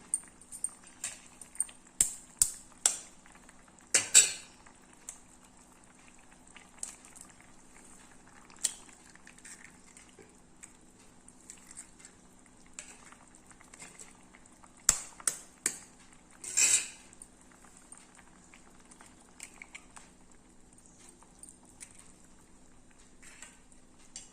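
A pot of egg curry with eggs cracked straight in simmers quietly, giving faint, scattered bubbling pops and an occasional soft clink of metal.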